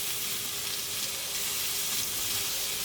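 Mushrooms frying in olive oil in a pan for risotto over very low heat, a steady close-up sizzle and hiss throughout.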